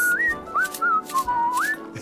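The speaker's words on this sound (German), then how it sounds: "Und man kann pfeifen, wenn man fröhlich" A person whistles a cheerful, wavering melody of several sliding notes, clear and close, alone without talk.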